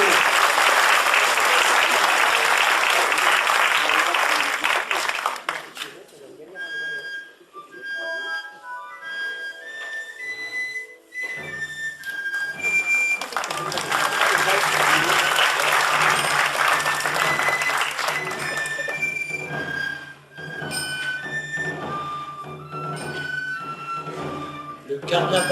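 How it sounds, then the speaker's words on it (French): Audience at an anniversary show for the Oulivarello troupe claps loudly in two long bursts, separated by a quieter stretch where a melodic tune with distinct notes plays over the fading crowd. "On peut les applaudir bien fort"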